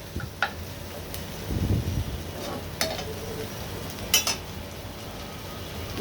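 A spicy chili bhaji fries in a pan on the stove, giving off a soft, low sizzle. Stirring and a few sharp utensil clinks break through now and then, close by and without speech.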